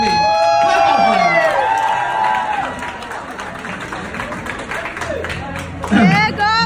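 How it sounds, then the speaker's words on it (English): A crowd applauds and cheers for performers about to sing a special song at an event, loud, dense clapping and shouts with voices mixed in, dipping slightly midway then swelling again near the end. "Give it up for them, please. Clap up for"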